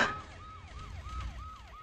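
A siren wails in a rapid, repeating rise-and-fall pattern, moderately distant and steady, with a low rumble of traffic underneath.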